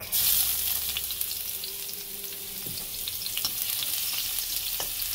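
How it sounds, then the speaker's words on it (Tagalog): Garlic sautéing in hot oil for chicken tinola, a steady close sizzle and crackle with occasional soft scrapes and clicks of stirring. "Saute the garlic until golden brown."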